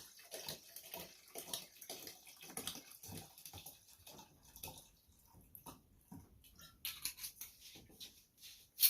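About 400 ml of whisky pours into a mixture for homemade Baileys, giving a run of splashy liquid bursts that pulse and trickle unevenly for several seconds, close and moderately quiet with no speech.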